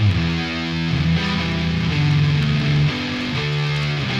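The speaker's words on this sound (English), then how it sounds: "Some super aggressive fuzz." An electric guitar runs through an aggressive fuzz pedal plugin, playing sustained, heavily saturated notes and chords that shift pitch in a loud, continuous buzzing tone without any talking.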